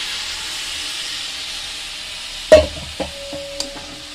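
Milk simmers in a pan of carrot halwa with a soft, steady steamy hiss, then a spoon scrapes and knocks against the pot a few times in close, distinct stirring strokes.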